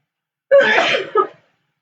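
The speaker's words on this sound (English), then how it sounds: "Well, I'm going to sneeze." A single sharp sneeze, close and loud, with a quick intake followed by the burst, set against silence.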